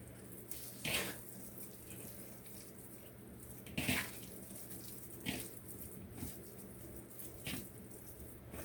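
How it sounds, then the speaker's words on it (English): Tap water runs in a steady soft stream into a kitchen sink while hands are washed, with a few louder splashing surges as hands move under the flow, fairly faint and with no talk. "pardon me while I wash my hands"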